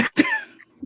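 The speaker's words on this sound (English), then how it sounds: "I'm trying not to cough." A person coughs twice in quick succession, close and fairly loud, then a short faint throat sound trails after a brief pause.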